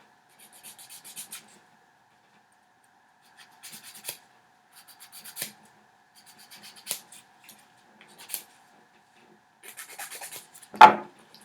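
Gel nail extensions being filed in short scraping bursts, a dry rasp repeating in small clusters with pauses between, fairly quiet and close, ending in one louder scrape.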